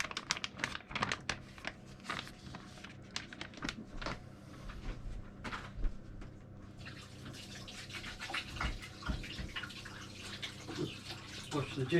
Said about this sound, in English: Just wash the juice off my hands.